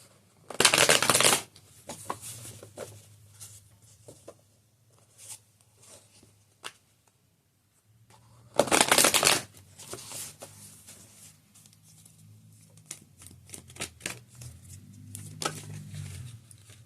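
Tarot cards riffle-shuffled in two loud, crisp bursts, each lasting about a second, separated by quieter tapping and card handling in a still room.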